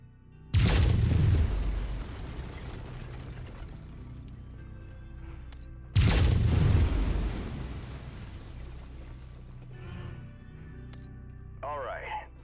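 Mech lasers firing in MechWarrior 5 come as two loud bursts of weapon fire, each a sharp blast that fades into a sustained roar, with a short warbling electronic tone near the end.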